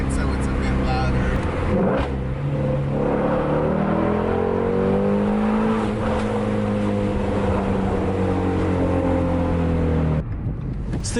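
A Mustang engine roars steadily louder as it accelerates in second gear, pitch climbing through the gear, with a brief drop near the end.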